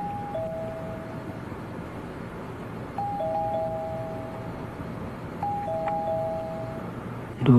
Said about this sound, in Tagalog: Doorbell ko yun ah.